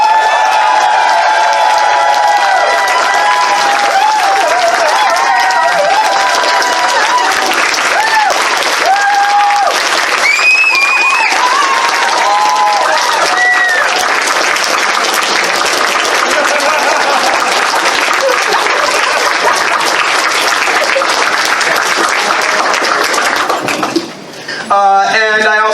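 Sustained applause and cheering from a large audience at the FurSquared 2020 convention closing ceremony, a dense steady wash of clapping with whoops that continues for the whole stretch and breaks off briefly near the end.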